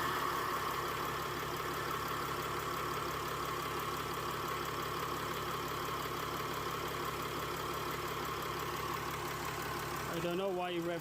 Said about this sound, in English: you already revved up the engine